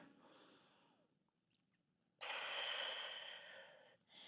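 Two slow, deep breaths during a deep floor stretch: a soft exhale fading to quiet, then a louder, breathy inhale that tapers off, close and alone without speech.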